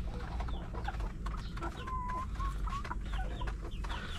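Several chickens cluck and squawk close by, among them five-month-old laying hens, with a steady low farmyard rumble underneath and no talking.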